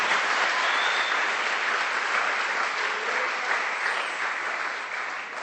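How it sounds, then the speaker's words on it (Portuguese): Church congregation applauding on a Sunday afternoon service, a dense, steady wash of many hands clapping at close range for over five seconds, easing slightly at the end with no talk over it. "dê um aplauso a Jesus aqui nessa tarde"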